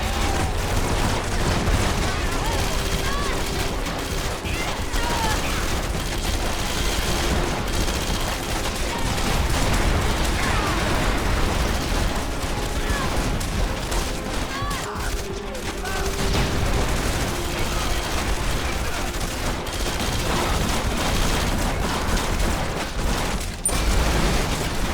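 Combat in the video game Red Faction: Guerrilla Remastered, with continuous gunfire, heavy weapon fusillades and explosions as vehicles and buildings are shredded, dense and loud throughout without letup.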